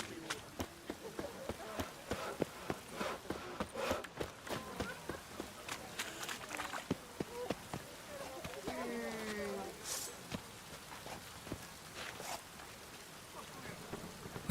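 Steady rain hiss fills a video game scene, with scattered footsteps and thumps, brief synthetic tones and a voice speaking partway through.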